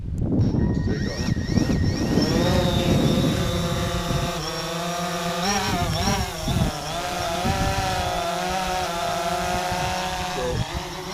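A drone takes off at Giants Playground in the Burren, its rotors whining up through rising, shifting pitches and holding a steady close buzz throughout.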